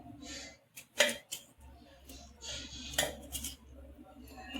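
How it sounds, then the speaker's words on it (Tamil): Knife cutting tomato into pieces on a board, a few sharp close taps and scrapes spaced irregularly, with quiet handling sounds between. "எடுத்துட்டு இப்படி கட் பண்ணி போட்டுக்கோங்க"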